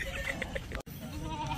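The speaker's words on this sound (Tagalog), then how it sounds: "Yung mga alagang kambing." Pet goats on a Filipino farm bleat several times in quick succession, close and fairly quiet, with a brief dropout partway through.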